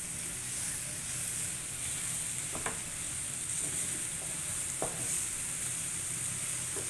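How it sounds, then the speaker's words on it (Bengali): Cabbage fries in a pan under a continuous loud sizzle and hiss, with a few soft stirring scrapes now and then and no talking. "নাড়া দাও।"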